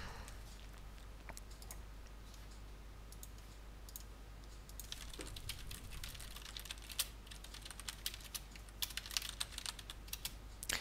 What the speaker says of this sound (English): Just typing to them.